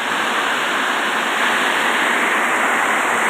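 Heavy rain pours outdoors over open rice fields, a loud, dense, unbroken hiss of falling water that stays constant throughout with no voices.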